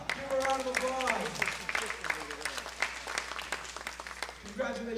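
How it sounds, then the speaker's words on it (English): A room of campers applauds a game winner at a summer friendship caravan event, a moderate patter of clapping running under a voice and sung or chanted tones that rise over it. "Leah, give her a round of applause"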